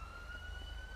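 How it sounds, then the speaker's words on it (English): A steady police siren tone in the video game GTA 5 holds over low vehicle rumble, brief and moderately loud, with no talking. "Oh, I hear more sirens."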